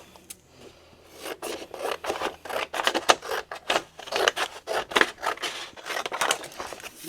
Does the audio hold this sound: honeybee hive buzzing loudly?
no